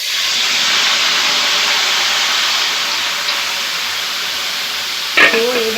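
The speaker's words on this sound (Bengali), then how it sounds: "এবারে দিয়ে দেবো সেই ম্যারিনেট করা চিকেন" Marinated chicken with chopped tomato and bay leaves hits a hot pan in a Bengali home kitchen, giving a loud, steady broadband sizzle that hisses on for several seconds, with a short clatter near the end.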